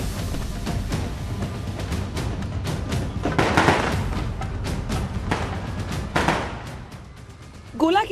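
Fireworks crackle and bang repeatedly at an election victory celebration in Gola Gokarnnath, a dense stream of sharp pops and bursts with a few louder blasts, mixed with crowd noise.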